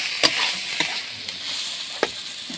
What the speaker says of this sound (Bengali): পেঁয়াজের সঙ্গে আলুটাও ভাজা হয়ে গেছে